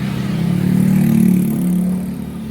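Car engine in Palembang city traffic, a steady mid-pitched hum that swells as the vehicle passes close and then eases off, no voices.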